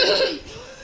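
A woman playing a choking victim in a first-aid demonstration gives a single short cough up close, then it trails off into quiet.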